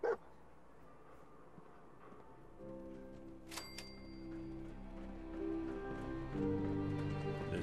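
The dog companion in the video game Fallout 4 yips and whimpers over game ambience, with a steady low drone and a rising hum later in the clip.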